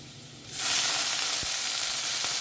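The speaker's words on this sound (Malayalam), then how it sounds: "സവാള ഏകദേശം ഫ്രൈ ചെയ്ത് വരുമ്പോൾ അതിലേക്ക് 1 തക്കാളി ചെറുതായി അരിഞ്ഞ് ചേർത്ത് നന്നായി" Chopped onion and tomato sautéing in a pan for dal fry: quiet at first, then a sudden loud sizzle as the tomato hits hot oil, holding strong and steady with a faint tap of a spoon.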